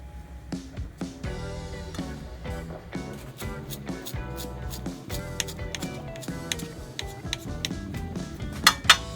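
Fresh parsley is chopped with a knife for a Turkish pea stew with minced meat: a steady run of close, sharp taps on a cutting board, ending in a few louder knocks, with some clinking and no talk.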